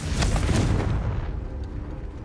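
A Confringo fire spell bursting in the video game Hogwarts Legacy: a single loud, close explosive boom that rolls off into a fading rumble over about two seconds.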